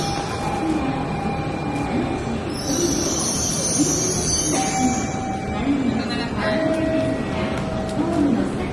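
Kodama bullet train bound for Kokura, a steady broadband rumble with faint whining tones throughout, heard from near or aboard, with voices in the background.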